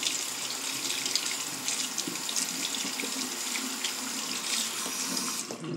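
A faucet runs steadily into a sink while makeup brushes are rinsed under it, a close, continuous splashing stream with no pauses and no voices.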